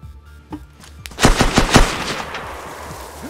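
A quick burst of automatic gunfire from the DayZ video game, several sharp rapid shots clustered together, loud and close, after a couple of softer thuds, then a fading tail.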